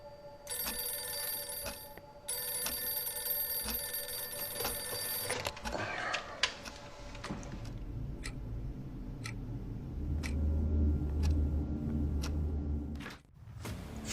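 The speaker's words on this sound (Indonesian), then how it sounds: "Frank memutuskan untuk menelpon Entuy untuk menanyakan kabarnya" A telephone rings in a movie scene, bright repeated electronic trills in two bursts early on, followed by ticking clicks and a low rumbling background.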